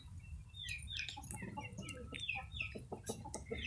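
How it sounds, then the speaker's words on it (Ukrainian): Small Sebright bantam rooster clucking in soft, repeated bursts amid a busy backdrop of other birds chirping and twittering, fairly close. "Дивіться, який маленький гарненький"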